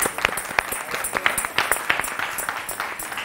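Scattered clapping from a small audience at a live music performance, a steady patter of hand claps with sharp individual hits, fairly faint and distant.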